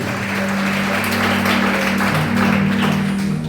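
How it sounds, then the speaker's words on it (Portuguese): A church congregation applauds during a worship service, a dense steady wash of clapping that runs the whole time, with a low sustained musical drone underneath. "A igreja pode aplaudir e louvar o Rei Jesus."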